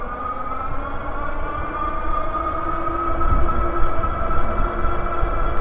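An all-wheel-drive Rad Power Radrover electric bike runs on its rear hub motor alone at full power, giving a loud, steady tonal whine that climbs slightly with speed over road and wind rumble.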